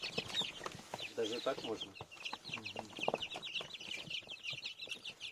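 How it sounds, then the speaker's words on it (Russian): Baby chicks peep inside a washing machine, their high, rapid chirps running steadily beneath a person talking throughout. "Цыплята очень любят летать."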